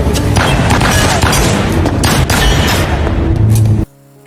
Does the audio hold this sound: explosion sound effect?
yes